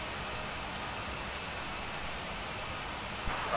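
A Boeing 737-700 jet in the FS2004 flight simulator on its takeoff roll gives a steady, loud, broadband engine roar that holds constant throughout, with no talk.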